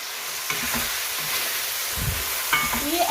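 Dry fried onions are mixed into sizzling keema in a pan, an ongoing frying hiss with spoon scrapes and a few knocks against the pot.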